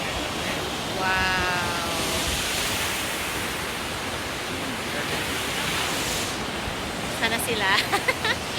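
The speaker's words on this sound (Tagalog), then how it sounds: "Going closer to the falls right there." Takakaw Falls in Banff, Canada, roars as a steady, loud, broadband rush of falling water, with people briefly exclaiming and talking over it near the end.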